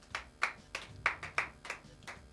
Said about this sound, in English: Round of applause, Hitman